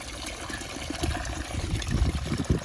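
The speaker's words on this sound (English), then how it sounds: "So this has actually been flushing out for about an hour and a half now" Water flushes out through the central heating system of a Viessmann boiler installation, a running trickle with low gurgling pulses that grow more frequent and a little louder over a few seconds.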